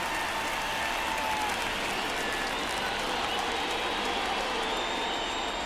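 A baseball stadium crowd at an A's versus Mariners game cheers steadily through the ninth inning of a one-run game, a dense, continuous roar of voices and clapping without a break.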